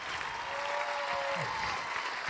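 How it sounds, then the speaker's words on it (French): Studio audience applause on a French-language Quebec TV game show, a steady crowd of clapping hands held at an even level, with a brief whistle and a few low voice fragments underneath. "on applaudit Jean-François"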